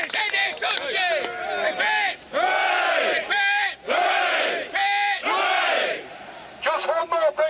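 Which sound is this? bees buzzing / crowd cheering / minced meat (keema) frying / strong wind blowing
crowd cheering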